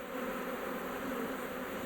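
Honey bees from a large rescued nest buzz steadily around hive frames, a dense, continuous close-up drone with no pauses.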